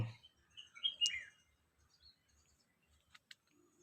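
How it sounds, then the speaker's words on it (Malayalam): Birds chirp and tweet on a hilltop viewpoint at Ponparakunnu, Kozhikode, a few clear calls near the start followed by sparse, fainter chirps and quiet pauses, with no voices. "ഇതേ നമ്മുടെ ഈ കിളികളെ സൗണ്ടൊന്നും നമ്മൾ എഡിറ്റ് ചെയ്ത് വെച്ചല്ല കേട്ടോ"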